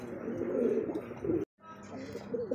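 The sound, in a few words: pigeons cooing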